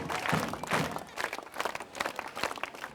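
Scattered applause from a village gathering at the launch of a clean-village project, uneven bursts of clapping rising and falling for a few seconds as the chairman is welcomed.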